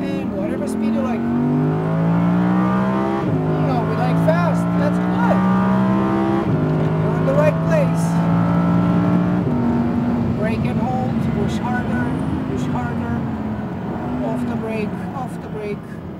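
An Audi R8 accelerates hard on a Las Vegas race track, its engine note rising through several gear changes, loud and continuous from inside the cabin, while people talk over it.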